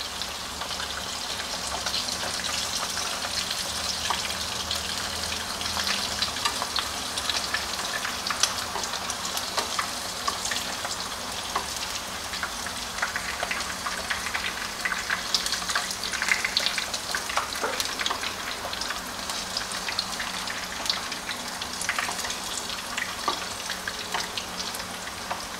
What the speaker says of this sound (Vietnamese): Mình chiên sơ vậy thôi.